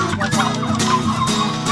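Turkeys clucking steadily on a farm with layered, overlapping calls, close by and fairly loud, with a busy farmyard murmur and no talking.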